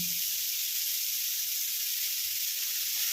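Tomatoes and cumin-coriander powder fry in a pan, giving a steady, close sizzle and hiss that stays even throughout without pause.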